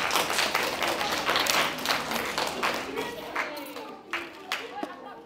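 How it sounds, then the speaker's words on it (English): A youth audience at a leadership presentation claps in a dense burst that starts loud and gradually thins out, with scattered murmuring under the applause. "could I get a round of applause for everybody?"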